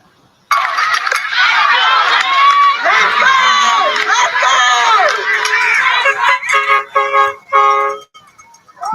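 Bullhorns blaring in a large crowd at a football game: loud, dense overlapping horn tones and crowd noise filling most of the clip, thinning into separate blasts toward the end.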